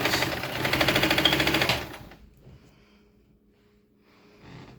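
A sewing machine runs a fast, rhythmic stitch for almost two seconds, close and clear, then stops, leaving faint handling sounds.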